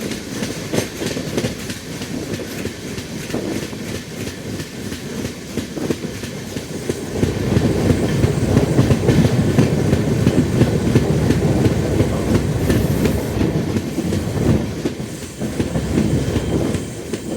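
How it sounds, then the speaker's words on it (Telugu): The Krishna Express runs steadily along the rails near Tirupati with a loud, continuous rumble and rhythmic wheel clatter, swelling heavier midway as the carriages roll past close by. "నాకు తెలిసి ఇది కృష్ణా ఎక్స్ప్రెస్ అనుకుంటున్నా అండి నేనైతే."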